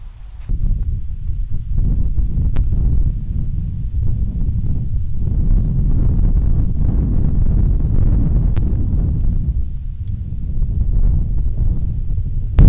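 Low, continuous wind rumbling and buffeting against the microphone on a golf course, steady and loud for the whole stretch with no voices.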